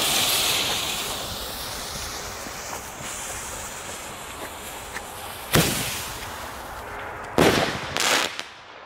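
Fireworks set off outdoors, small rockets from a consumer pack: a faint hissing background with a few sharp loud bangs and crackles near the end, around five and a half seconds in and again in a quick cluster at about seven to eight seconds.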